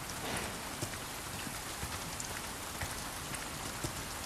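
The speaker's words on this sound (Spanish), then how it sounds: "el efecto de agua de lluvia sí lo mejoraron" Steady rain falling in the video game Resident Evil 4 Remake, a continuous dense hiss of drops with faint scattered ticks and no voices.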